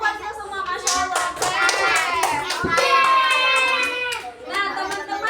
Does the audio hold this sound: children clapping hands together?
yes